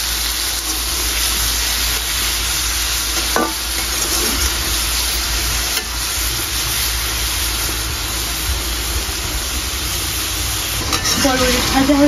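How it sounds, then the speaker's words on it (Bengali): Yardlong beans fry in hot oil, giving a loud continuous sizzle with occasional stirring scrapes and brief clinks of a utensil against the pan. "তেল গরম হয়ে গেছে, এখন বরবটি ভেজে নিব।"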